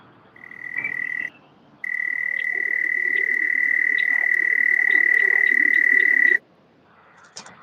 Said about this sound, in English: There's some frogs here tonight too.